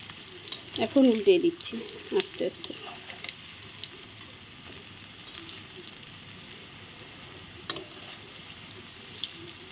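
Banana flower koftas fry in hot oil with a soft, continuous sizzle and bubbling throughout, while a voice speaks briefly near the start.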